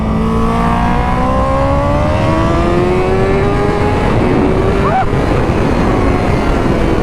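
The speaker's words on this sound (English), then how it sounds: "You notice the revs go down to 2 or 3 cylinders. Sounds a bit misfiring." A loud 240 bhp Honda superbike engine drones close by, its pitch sweeping down and then falling uneven and rough as it misfires on some cylinders, with heavy wind noise throughout.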